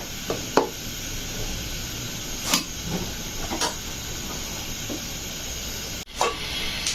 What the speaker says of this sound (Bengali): চালটা বলক চলে আসছে, একটু নেড়ে দিব।